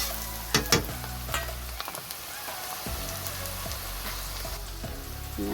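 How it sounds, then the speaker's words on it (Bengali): Chopped onion frying in a pan, crackling with a light, continuous sizzle. A few sharp clinks of a spatula sound near the start, and scattered stirring scrapes follow at a quiet, close level. "এবার বেশি ভাজবো না, হালকা হালকা লাল করবো"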